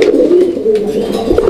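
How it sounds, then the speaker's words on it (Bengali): Pair of racer pigeons cooing close by, a steady throaty murmur that runs continuously with slight swells, no talk over it. "এখানে আরও এক জোড়া কবুতরের কালেকশন রয়েছে, রেসার কবুতর"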